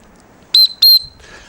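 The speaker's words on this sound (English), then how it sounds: "it's got a little whistle" Two short, shrill whistle blasts in quick succession, loud and close, followed by a faint fading tone and quiet background.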